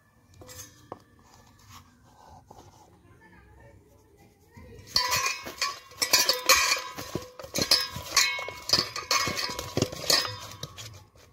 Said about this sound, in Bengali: পুঁটি মাছগুলো ভালো করে ধুয়ে নিয়েছি, এবারে লবণ আর হলুদ মাখিয়ে নেব